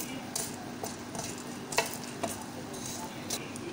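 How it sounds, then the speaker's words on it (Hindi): Whole spices dry-roasting in a hot pan over a high flame, giving a steady soft sizzle with a few light stirring scrapes and clinks, close and moderately quiet with no talking. "इन सारे स्पाइसेस को डाल देंगे और हल्का सा भून लेंगे"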